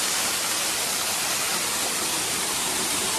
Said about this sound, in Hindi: तो ये है वाटरफॉल